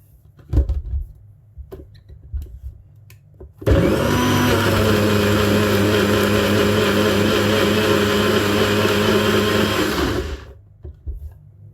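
A kitchen blender blitzes jerk seasoning with browning added, a loud steady whirring roar that starts abruptly after some light clatter and runs for about seven seconds before cutting off.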